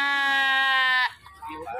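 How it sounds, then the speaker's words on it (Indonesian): A PEPE goat at a livestock market in Wonosobo, Central Java, lets out one loud, drawn-out, tonal bleat lasting about a second, close by, followed by someone speaking. "kalau yang PEPE seperti ini guys, kambing PEPE."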